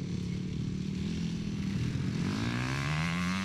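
Motorcycles racing on a track at a Belarusian Maslenitsa festival, their engines droning steadily and loudly throughout with a rising, shifting pitch as the bikes pass.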